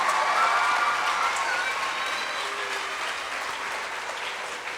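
An audience claps for much-beloved music teacher Srimati Anu at the Poola Panpu event, a steady, fairly distant round of applause that tapers slightly toward the end.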